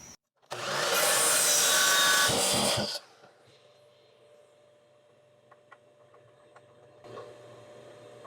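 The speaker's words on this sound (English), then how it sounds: "we're going to go hit it up on the miter saw and make our cut" Miter saw cutting a piece of wood for a holiday decor project, a loud, close burst of whirring and cutting lasting about two seconds, then quiet low hum with faint clicks and a short rise near the end.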